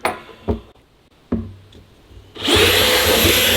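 A drill bit bores a hole during a bear hunting setup in Nova Scotia, with a few sharp knocks first and then a loud, steady whirring run of the drill close by.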